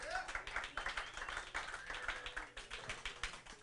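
Audience at a comedy open mic claps in a small, scattered round of applause, soft and rapid, with voices mixed in.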